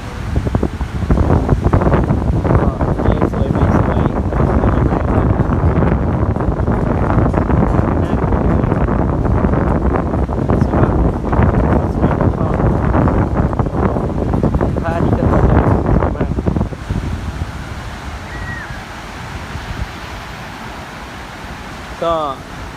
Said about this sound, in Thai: แต่ว่าขึ้นลมแรงจริง ต้องได้เอามือบังไอตัวตรงลำโพงไว้นะครับ